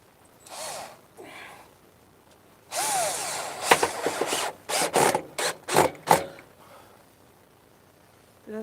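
A power drill drives 18–20 mm screws into a gargoyle letter box, heard as a few short whirring bursts close up, stopping and starting rapidly, after a brief quiet opening sound.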